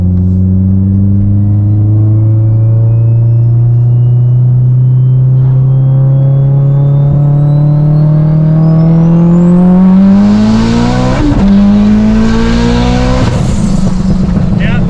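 A Mitsubishi Evo 8 running on E50 accelerates hard, its loud, close engine note climbing steadily through the revs before a shift, then rising again with a brief tire chirp.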